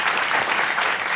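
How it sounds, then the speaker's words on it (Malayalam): Studio audience at a Kerala quiz show bursts into steady, dense clapping to open the round, a close, continuous wash of hands with no voices over it. "അപ്പോൾ ഒന്ന് കൈയടിച്ച് നമുക്ക് തുടങ്ങിയാലോ?"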